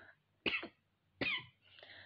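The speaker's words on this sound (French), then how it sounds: "Désolée, je tousse encore un peu" Two short, close coughs about a second apart, followed by a softer throat-clearing sound, in an otherwise quiet room.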